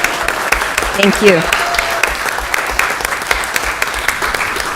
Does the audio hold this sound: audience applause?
yes